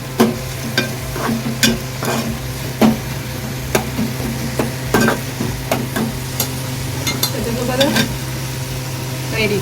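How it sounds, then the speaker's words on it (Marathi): Tomato frying with onion in hot oil for prawn masala, a steady close sizzle broken by repeated sharp clinks and scrapes of a spoon stirring in the pan. "कांदा वगैरे चांगला ब्राऊन झाला पाहिजे एकदम फ्राय झाला पाहिजे चांगला तेलामध्ये ओके आता टोमॅटो जातोय"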